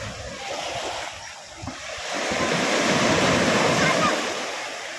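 Ocean waves wash steadily onto Patar White Beach in Bolinao, Pangasinan, a continuous broadband surf roar with a swell rising midway, heard close with wind noise.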